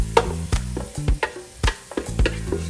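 Finely chopped ginger frying and being stirred in a pan for a jerk chicken dinner, a steady close sizzle broken by several scraping stirs, with no talking.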